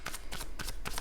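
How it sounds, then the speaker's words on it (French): Tarot cards are drawn and handled in four quick, close riffling bursts of papery shuffling, brief and fairly loud, with no talking. "je vais rajouter une carte pour le 6 de Pentacle"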